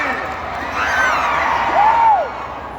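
Fans at a Smallville talk with Erica Durance and Tom Welling let out a vaia cearense, Ceará's mock booing, as a dense crowd scream that swells in the middle, with long arching wails cutting above the din.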